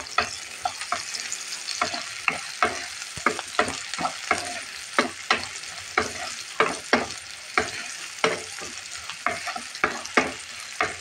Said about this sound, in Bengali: সামান্য ভেজে নেব, বেশি ভাজা লাগবে না বন্ধুরা।